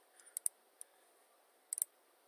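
Sharp, quiet mouse clicks in small clusters, a double click early, a lone click, then a quick triple burst, close and dry over faint room hiss while operating Hirender S3 software.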